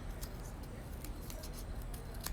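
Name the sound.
scissors cutting rounded petals from a paper cup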